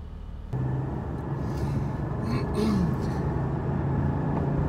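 2020 Porsche 718 Boxster Spyder pulling away on the road, a steady low engine drone that swells after a moment and holds, with a faint rising tonal sweep near the middle; no speech.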